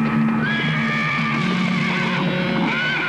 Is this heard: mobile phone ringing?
no